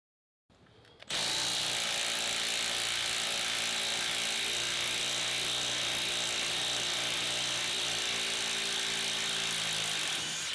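A Dewalt DCF894 or Makita XWT14 cordless impact wrench hammers steadily on a stubborn lug nut, starting abruptly after a brief silence and then rattling loudly and continuously at close range.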